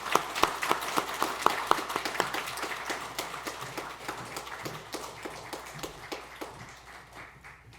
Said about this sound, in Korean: 함께 올라오실 때 큰 박수로 맞겠습니다